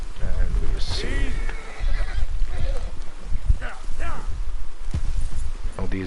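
A horse in Red Dead Redemption 2 whinnies after being revived, the neigh rising over game noise and hoofbeats while someone talks throughout.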